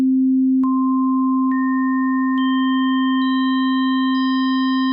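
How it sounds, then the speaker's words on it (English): Pure sine tones stack into a deliberately random, dissonant chord: a steady low tone holds while a new, higher tone enters with a soft click about every second, five tones in all, each sustained to the end. "just adding harmonics at random and making a really weird dissonant chord"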